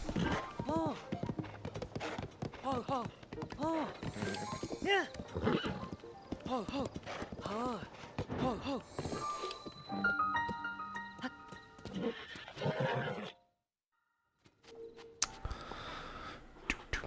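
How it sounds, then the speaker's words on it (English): Horse hooves clip-clopping at a steady trot in Zelda: Tears of the Kingdom, mixed with game music and a brief whinny, running continuously before a short silence and then resuming faintly. "Horseback riding."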